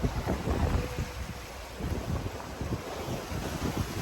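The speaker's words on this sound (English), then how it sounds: "hopefully we'll get out of this area with all the strong wind quickly" Strong wind buffets a sailboat crossing the Atlantic Ocean, a loud continuous roar with gusty rumble and wave wash close to the microphone.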